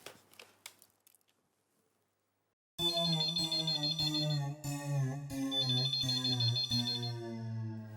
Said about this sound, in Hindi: नट्टू काका, इंटरकॉम